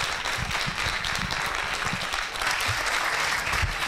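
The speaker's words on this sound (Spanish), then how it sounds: "Un aplauso, exactamente." Audience at the T3chFest 2017 tech conference applauding a panel on women in technology, a steady crowd of clapping hands with a few low thumps and murmurs mixed in.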